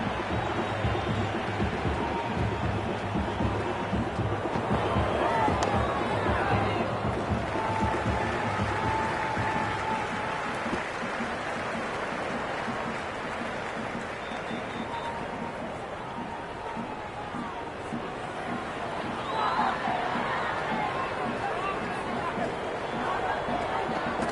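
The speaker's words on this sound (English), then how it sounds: "The crowd is electric right now." A cricket crowd in Cricket 26 cheers and murmurs as a steady roar, swelling in waves after a boundary, with a commentator's voice talking over it.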